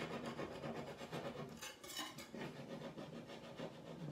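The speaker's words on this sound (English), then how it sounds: "I'm gonna take my spatula and I'm gonna try to scrape it off." A spatula scrapes burnt coffee grime off a glass stove top, a close, continuous rasping rub in repeated strokes with a brief stronger pass midway, no talk.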